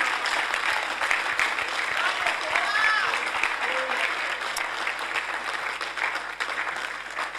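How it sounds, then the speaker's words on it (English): A church congregation at a Sunday service claps in sustained, dense applause for several seconds, with voices and cheering mixed in the crowd sound. "I think you can clap for God."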